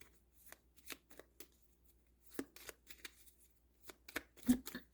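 Tarot cards being shuffled by hand, a run of quick papery riffles and soft slaps arriving in uneven bursts, close and fairly quiet.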